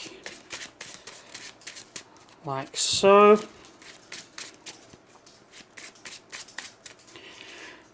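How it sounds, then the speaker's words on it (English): Rapid riffling of playing cards being shuffled, crisp papery flutters repeating in quick bursts, with a brief spoken comment partway through. "these get shuffled back in the deck"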